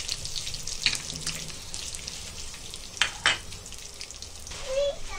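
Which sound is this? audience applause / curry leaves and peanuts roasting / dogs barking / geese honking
curry leaves and peanuts roasting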